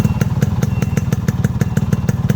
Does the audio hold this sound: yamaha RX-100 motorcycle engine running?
yes